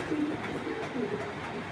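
Giribaz pigeons coo softly and steadily, close by, with a faint background murmur.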